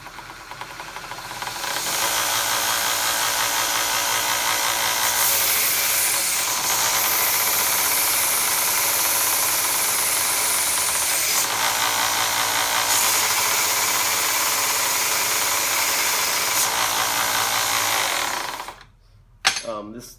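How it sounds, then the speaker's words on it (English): A small homemade belt grinder's motor runs steadily and loudly with a broad hissing whine for about seventeen seconds, bogging slightly under load, then cuts off. "This setup kind of makes the motor bog down a little bit, as you can tell"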